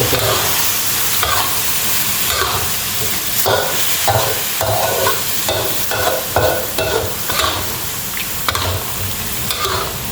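Coconut milk, used in place of oil, simmers and sizzles in a pan while pork is stir-fried with red curry paste, with steady bubbling and stirring scrapes throughout and no talking.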